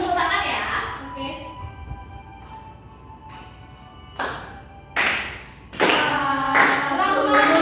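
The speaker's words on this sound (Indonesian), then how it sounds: "Sambil tepuk tangan ya" Students in an Indonesian civics classroom clap in scattered bursts that grow into fuller, louder group clapping near the end, with children's voices heard early on.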